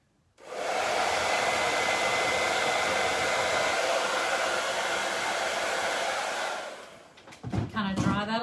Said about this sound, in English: I'm going to cheat and use my blow dryer